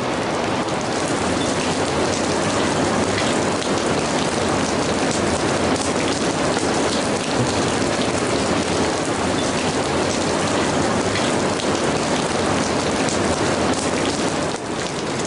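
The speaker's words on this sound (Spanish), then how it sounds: "Llueve, agua que se filtra entre las piedras constantemente, tallando su caprichoso contorno." Water drips and seeps steadily through the rocks inside a natural cave, forming a dense, constant rain-like hiss with no pauses, fairly loud and close, and no voices present.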